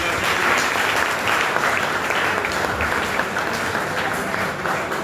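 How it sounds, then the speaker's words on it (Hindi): Seminar audience at an ITI event applauding steadily in an indoor hall, a dense, even wash of clapping that holds at full strength for the whole stretch. "ताली बजाओ भाई के लिए"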